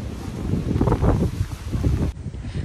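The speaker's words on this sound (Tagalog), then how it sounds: "ang lakas ng hangin ba" Strong wind roars and buffets steadily, broadband and gusty, with rustling noise and no voices.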